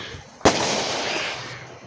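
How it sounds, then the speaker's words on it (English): Fireworks burst outdoors with one sharp, loud bang, followed by a long crackling, hissing wash that slowly fades over about a second and a half. "Look at those freaking fireworks, look like fireballs."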